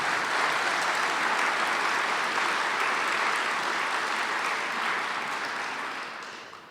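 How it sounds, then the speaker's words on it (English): A crowd at a county State of the County address applauds steadily, a dense even clatter of clapping that holds for several seconds before tapering off. "let's give the school district a good round of applause."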